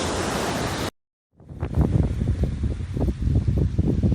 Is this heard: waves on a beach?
yes